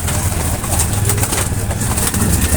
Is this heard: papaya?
no